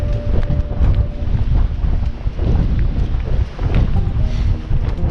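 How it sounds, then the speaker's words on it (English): Strong wind sweeps across Dartmoor's high moor, a loud, continuous low rumble and buffeting against the microphone with gusty surges throughout. "even if it is mega windy today"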